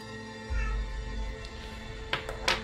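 A house cat meows a couple of times, short faint cries close by in a quiet workshop, over a low hum and a brief soft thump.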